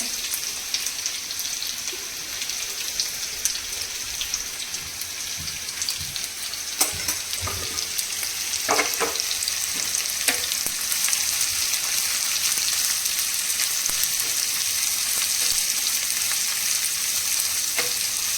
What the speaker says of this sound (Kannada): ಇವಾಗ ನಾನು ಕಟ್ ಮಾಡಿರೋಂಥ ಈರುಳ್ಳಿನ ಹಾಕ್ತಾ ಇದ್ದೀನಿ ನೋಡಿ